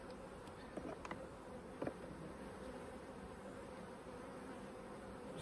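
Honeybees buzzing around an open hive during a frame inspection, a faint, steady hum with a few brief louder passes of bees flying close by.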